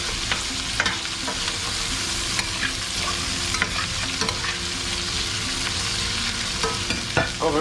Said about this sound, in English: kind of cook first, saute them and cook them first